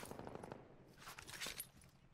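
Gunfire from Call of Duty: Modern Warfare during an attack on the player, with faint, distant bursts of shots and rattling in the game mix, fairly quiet overall.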